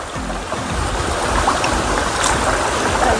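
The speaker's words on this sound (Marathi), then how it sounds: "थंड पाण्याचा झरा होता आहे" Steady rushing of flowing water, close and continuous, like a small cold-water spring running over rocks on a mountain trek trail at Koraigad fort, with no voices.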